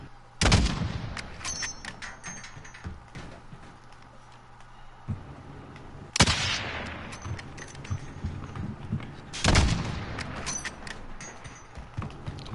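Gunfire in a Call of Duty match, with three loud sharp bursts of shots each followed by a ringing decay, separated by quieter stretches of game noise and mechanical clicks.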